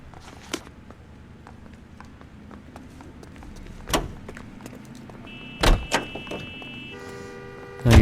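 Car driving in the video game L.A. Noire, a low engine hum running under scattered clicks, knocks and door-like thuds, with a brief horn-like tone late on and a louder thump at the very end.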